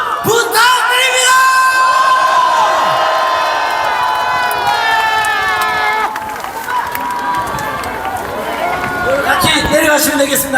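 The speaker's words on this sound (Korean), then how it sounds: "뜨거운 박수" A large crowd at a political speech rally in Gumi, South Korea, cheers, whoops and yells loudly and continuously for nearly eleven seconds, with a dense, energetic roar that eases slightly midway before swelling again.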